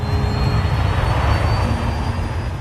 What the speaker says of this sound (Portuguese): O A380 é equipado com 4 enormes motores Rolls-Royce.